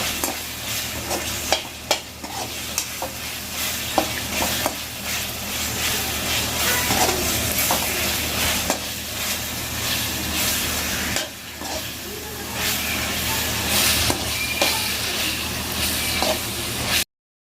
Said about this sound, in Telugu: ఒకసారి టమాటాలు కూడా కలుపుకుందాం